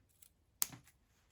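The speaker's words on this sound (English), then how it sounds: "I'm gonna go ahead and get my scissors and I'm going to cut right here." Scissors cut a piece of ribbon in one sharp, close snip after a faint earlier click, set against an otherwise quiet room.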